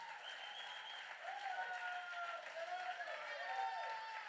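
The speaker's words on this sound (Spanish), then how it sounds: "Dale el aplauso a Dios" Church congregation applauding during a sermon, steady crowd clapping throughout with a voice and tonal sounds carrying over it.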